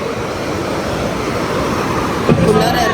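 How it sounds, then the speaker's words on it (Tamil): Ocean waves wash in with a constant broad roar, close and loud, swelling slightly toward the end. "Beach sound."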